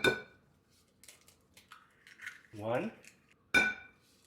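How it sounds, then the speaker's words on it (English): A fork beats two eggs in a bowl, giving sharp metallic clinks at the start and again near the end, with brief speech in between. "We're going to beat the eggs with a fork."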